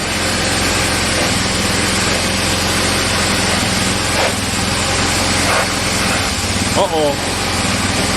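A small pressure washer engine with a poorly cleaned carburetor runs loud and steady close by, its note wavering and faltering as if about to stall, while a voice speaks briefly over it.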